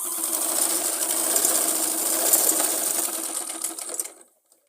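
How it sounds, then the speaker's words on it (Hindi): A sewing machine runs steadily while stitching a Punjabi suit, a close, continuous mechanical whir that stops abruptly near the end. "ऐसे थोड़ा सा गैप रखते हुए हमने इसको कंप्लीट करना है सिलाई लगाते हुए"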